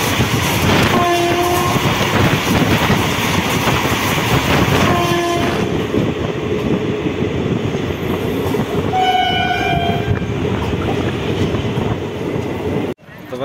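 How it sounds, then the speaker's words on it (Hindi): A passenger train pulls into Balrampur station with a loud continuous rumble and wheel clatter, and a horn sounds in short blasts a few times over the roar. "अपनी ट्रेन पहुंच चुकी है थर्ड लास्ट स्टेशन बलरामपुर।"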